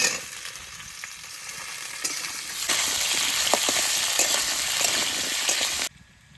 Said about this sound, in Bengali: আলুটা অর্ধেক ভাজা হয়ে গেছে এবার ওর মধ্যে কলাটা দিয়ে দেবো